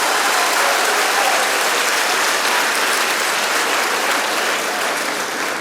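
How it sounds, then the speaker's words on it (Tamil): Steady, dense applause from a school event audience fills the whole stretch at an even loudness, with no voices breaking through. "எவ்வளோ பெரிய விஷயம், நல்லா கைத்தட்டலாமே."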